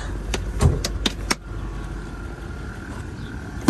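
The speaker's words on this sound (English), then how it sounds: "You can hear the compressor." The air suspension compressor on a 2006 Range Rover Sport HSE hums steadily and fairly quietly after a few sharp clicks and knocks, running on alone with no voices.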